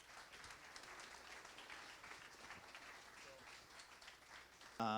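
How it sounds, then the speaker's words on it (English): A tech meetup audience gives a round of applause for the next speaker, a faint, even wash of many hands clapping in a room, ending in a brief louder bump. "give him a round of applause as we get him set up"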